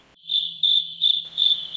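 A cricket chirps in loud, close, sustained trills that break into several bursts over a quiet background.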